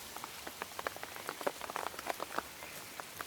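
Out-of-season rain falls on vegetable garden beds, a quiet, steady patter of many small drops tapping the soil and leaves, with no voices.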